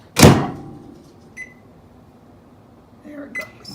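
A microwave oven reheating eggs gives a soft thump, then a few short, faint electronic beeps nearby in a quiet kitchen.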